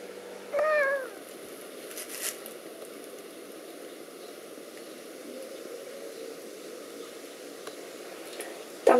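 A kitten gives a short, thin meow near the start of a quiet indoor scene, then a faint second cry right at the end, over low room hiss.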